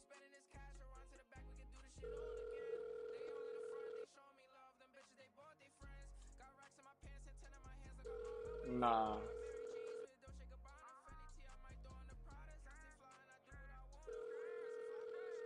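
A telephone call sounds in a steady repeating pattern of ringback tones in long bursts with pauses, loud and clear over a thumping music beat, with a brief spoken word partway through.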